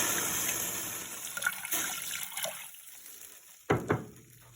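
Water pours and trickles into a pan of softened onions while making barbecue sauce, a steady liquid wash fading out, followed by a couple of brief splashes near the end.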